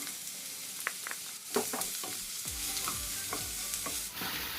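Onions tossed into a pan with curry leaves sizzle steadily while a spoon scrapes and stirs, giving repeated clinks and scraping strokes over the constant frying hiss.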